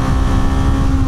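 A Kawasaki KLE500 motorcycle engine revs hard above 8,000 RPM, a steady, loud, close-up drone with a buzzing exhaust tone that holds throughout, with no talking.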